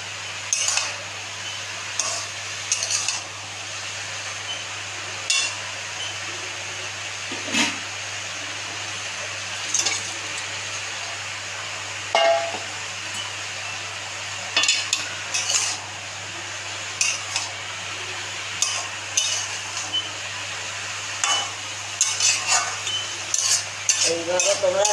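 Hilsa fish head fries with ash gourd in a pan, a steady low sizzle broken by intermittent scrapes and clinks of a spatula stirring against the metal, close by.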